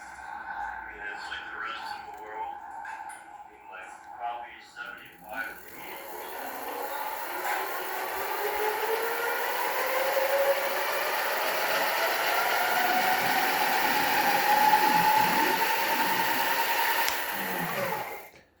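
An electric bike running in pedal assist 5 gives off a rising motor whine that climbs steadily in pitch as it speeds up, with someone talking briefly at the start.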